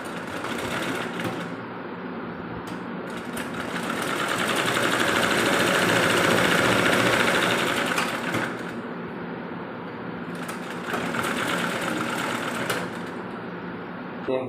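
A sewing machine runs steadily while stitching the inner flap of a pillow cover, its motor humming and swelling louder in the middle before settling, with brief pauses between runs.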